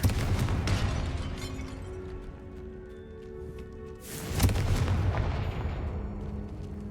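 A Confringo spell blast in a Harry Potter video game, a heavy explosive boom that swells midway through a dense, rumbling stretch of gameplay noise, loud and close, with no talking.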